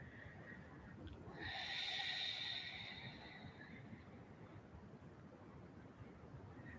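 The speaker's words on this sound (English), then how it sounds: "Breathing through the nose if we can." Slow, quiet breathing through the nose during a yoga session, one soft airy inhale swelling and fading over a faint steady background hiss.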